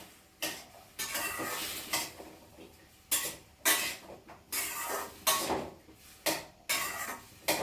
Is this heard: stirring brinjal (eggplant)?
yes